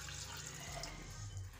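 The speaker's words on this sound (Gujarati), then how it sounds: "આપણે દાળ બાફવા મૂકવાની છે એટલે સૌ પ્રથમ પાણી નાખશું." Water is poured into a cooking pot at home so Gujarati dal can be boiled. The pour makes a faint, steady splashing gush with no talking.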